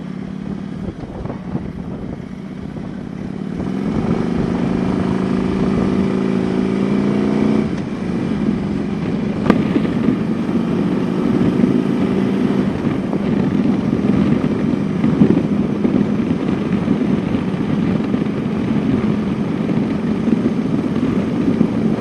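A motorcycle rides along at steady speed, its engine hum droning up close under heavy wind buffeting, with the pitch shifting a few times as it works through gears.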